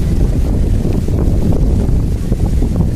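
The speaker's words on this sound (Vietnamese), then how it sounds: "Ở đây gió biển thổi vào lồng lộng," Strong sea wind blows steadily across the garden of a beach resort, a loud, dense rumbling rush buffeting the microphone without a break.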